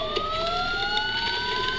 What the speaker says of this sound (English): Sirens. The police.